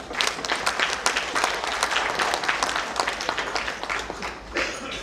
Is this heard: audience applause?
yes